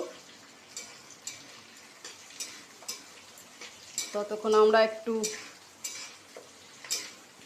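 Capsicum frying in a pan, a light sizzle with scattered clinks and stirring scrapes, while someone speaks briefly in the middle.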